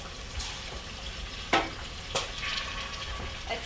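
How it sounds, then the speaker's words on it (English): Okra frying in oil gives a steady, soft crackling sizzle, with a few sharper pops and spatters breaking through at irregular moments. "while my okra is frying"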